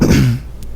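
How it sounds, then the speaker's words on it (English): A single person's close, loud cough after drinking, one harsh burst that fades quickly into quiet. "so we're here coughing"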